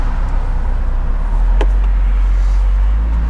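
Heavy trucks roll past on Interstate 35W, a loud, continuous low rumble of traffic that swells slightly midway, heard from close to the highway with no talking.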